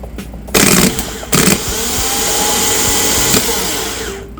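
A rebuilt Yanmar engine starter motor runs on a bench with two short loud bursts, then holds a steady whirring drone for a few seconds before cutting off.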